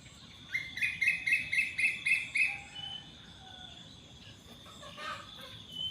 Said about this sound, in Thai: ฟังเสียงนกเสียงธรรมชาติไปด้วยกันนะคะ